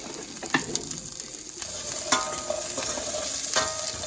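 Potatoes sizzle and crackle on a Ninja Kitchen griddle for a big breakfast, a steady bright hiss with a few sharp scraping strokes as they are stirred and mixed, close and alone.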